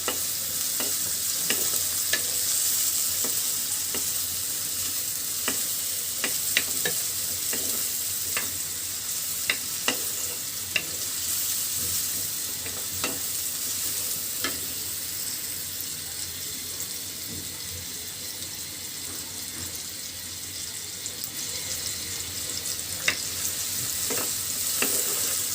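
Oil sizzling in a kadai as hilsa fish head is cooked with garlic paste, a steady hiss with scattered sharp crackles and pops throughout, close and fairly even; no speech.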